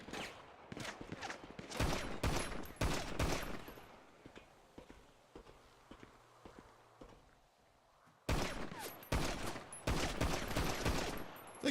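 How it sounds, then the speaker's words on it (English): Gunfire in GTA V on the NoPixel roleplay server comes in rapid loud bursts, then thins to scattered shots and thumps before a renewed heavy volley near the end. "Getting shot at from 2 angles."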